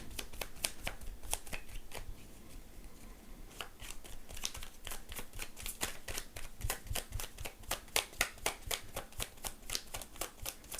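Tarot cards being shuffled and drawn up close, a steady run of crisp, rapid riffling flicks and snaps continuing throughout at moderate loudness.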